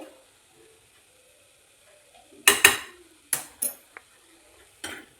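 A spatula stirs cardamom powder into roasted besan in a pan for modak. Sharp metallic scrapes and clinks come in short bursts separated by near silence, with no talking.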